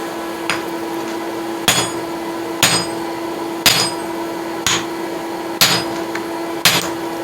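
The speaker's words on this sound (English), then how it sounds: "This is a 10-pound hammer" A 10-pound hammer striking hot steel while forging a rounding hammer, sharp ringing blows at a steady pace of roughly one per second over a constant background hum, with no talk.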